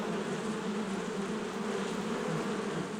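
A dense, continuous buzzing hum of many bees, steady and close, with no pauses or voices.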